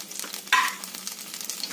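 Cumin seeds sizzle faintly in hot oil, a soft continuous crackling hiss with one brief louder burst early on.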